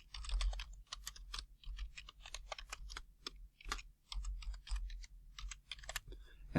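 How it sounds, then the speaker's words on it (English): Typing on a computer keyboard to enter a file name: quick, irregular runs of soft, close key clicks with short pauses between bursts, quiet and alone. "We're going to type in our last name,"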